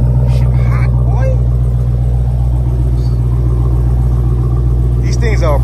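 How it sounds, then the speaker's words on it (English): A Dodge Hellcat idles nearby with a loud, steady, deep rumble that lasts the whole time, while people talk briefly over it at the start and end. "Y'all hear that? Yeah, it's a Hellcat, y'all."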